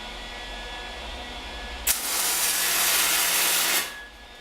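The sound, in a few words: welding a table frame with a welding machine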